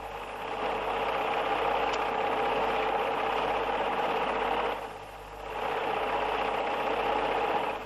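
A sewing machine stitches cloth at home with a steady, close mechanical whir and rapid chatter of the needle, running continuously apart from a brief slowdown midway before picking back up.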